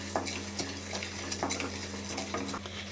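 Spices for vangibath powder, including turmeric, being stirred and roasted in a pan on a medium flame: steady soft sizzling with repeated light scraping and clinking of a utensil, close and without speech.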